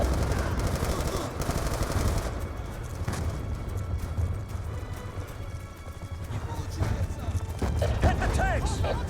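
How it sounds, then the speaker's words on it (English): Tanks firing during a battle at a base in the video game Black Ops 2, with loud rapid bursts and booms over continuous combat noise and shouted voices throughout. "Enemy tanks are firing on the base."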